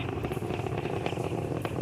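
The nine Merlin 1D engines of a Falcon 9 rocket during ascent give a continuous, dense, crackling roar with a low rumbling base, steady and unbroken throughout.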